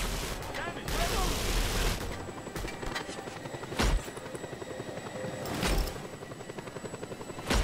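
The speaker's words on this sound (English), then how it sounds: "It's an awfully nice heli you have there." A helicopter in the video game Just Cause 2 whirs steadily with a rhythmic rotor chop. Bursts of gunfire and a voice speaking break in over it.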